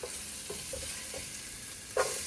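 Garlic and onions sweat in a frying pan with a soft, even sizzle. A few light stirring scrapes come through, and a sharper clatter sounds near the end.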